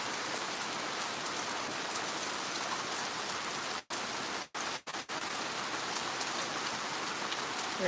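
Steady rain pours in the mountains of Jamaica near a river, an even, dense hiss of drops on surfaces that cuts out briefly a few times partway through, then carries on unchanged, with no talk.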